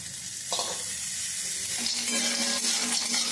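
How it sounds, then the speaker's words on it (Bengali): Garlic, onion and green chillies stir-frying in a hot pan, a steady close sizzle with a few scrapes of stirring and no talk. "রসুন পেঁয়াজ কাঁচা লঙ্কা করে নেড়ে নেড়ে ভেজে নেব যতক্ষণ না এগুলোর গায়ে পোড়া দাগ লেগে যায়"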